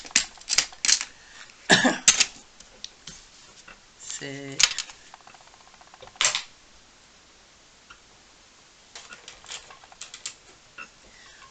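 Scissors snip through faux leather in short, crisp clicks and cuts, a few quick bursts spread through the stretch, with someone speaking French softly between them.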